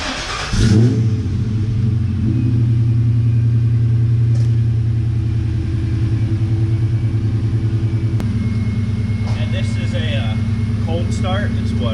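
A newer-generation Ford Mustang GT with long tube headers and an aftermarket exhaust, cold-started on a chilly day. It gives a loud, close, steady deep rumble that holds throughout with slight pulsing changes.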